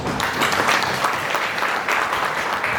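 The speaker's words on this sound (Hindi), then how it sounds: "जोरदार तालियां।" Brief, lively clapping from a group of guests at a first birthday party, steady and fairly close throughout.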